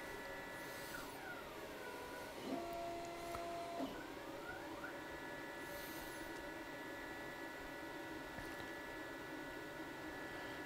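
A Da Vinci Pro 3D printer runs its automatic bed-leveling routine, steady motor whine with rising and falling stepper tones as the head moves between corners, a couple of brief clicks near the middle.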